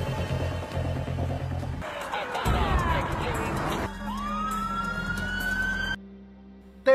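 A police car siren wails in a tense film scene, sweeping loudly against traffic and engine noise before a sudden cut to quieter sound.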